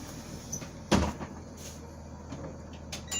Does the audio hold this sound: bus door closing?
yes